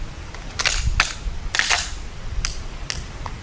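Roughly five sharp, snappy gunshots ring out at a firing range, spaced irregularly over a few seconds. They are moderately loud against a low background rumble, with no talking.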